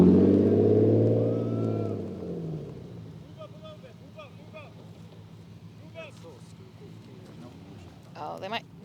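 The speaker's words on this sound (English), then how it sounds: "might be a car coming through" A rally car idles and then pulls away through a gravel service area in the forest, loud and close at first, its engine fading into the distance while people chatter nearby.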